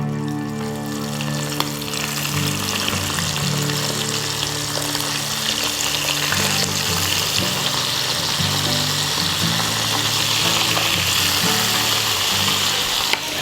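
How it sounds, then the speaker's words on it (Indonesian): Steady, loud sizzling and crackling of shrimp frying in hot oil continues throughout, with a low hum underneath and no voices. "Oke, kita akan goreng udangnya."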